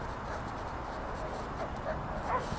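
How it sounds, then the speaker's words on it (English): Dogs bark and whimper faintly in the background, a few short yips standing out over a steady noisy bed. "now they got the dogs over here in the corner barking"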